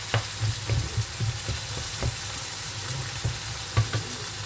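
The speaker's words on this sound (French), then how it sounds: "je laisse bien cuire ma viande. J'écrase les bouts de viande hachée." Ground meat sizzles softly in a pan while being pressed and broken up, with a steady low frying crackle punctuated by irregular scraping knocks of the utensil against the pan.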